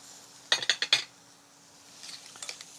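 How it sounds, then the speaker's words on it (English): A spoon stirs a cucumber and red onion salad with sugar in a bowl, a quick run of four or five light clinks followed by softer scraping taps, close and quiet. "And we'll stir this salad together."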